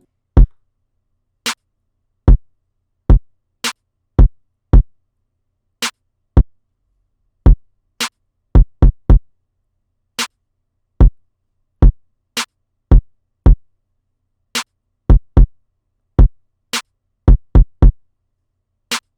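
A slow kick drum pattern for a rap beat thumps alone in sharp, punchy hits, spaced unevenly with occasional quick doubles and triples, loud and dry against silence.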